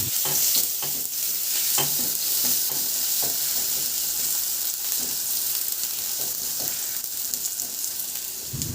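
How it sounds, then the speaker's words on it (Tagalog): Garlic sautéing in cooking oil in a pan, a steady close sizzle and crackle running throughout with occasional stirring clatter, no voices. "Maglagay ako ng mantika sa kawali at igisa ko na yung bawang."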